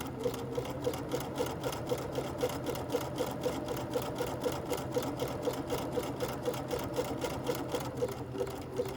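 A Bernina 335 sewing machine stitches a tight zigzag buttonhole at slow speed, producing an even, rapid ticking rhythm that stays steady and fairly quiet throughout.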